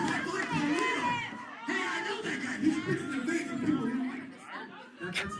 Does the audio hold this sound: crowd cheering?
yes